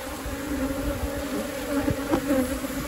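Honey bees buzz steadily at a beehive during work on a honey super, a close, continuous droning hum with brief louder passes of individual bees.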